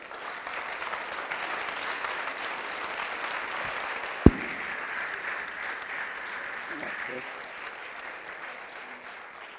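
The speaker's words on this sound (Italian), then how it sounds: "Vi chiedo di accogliere con un grandissimo applauso Marc Lazar." A summer school lecture audience gives a long, sustained round of applause to welcome a speaker, an even, dense clapping texture with one sharp knock partway through.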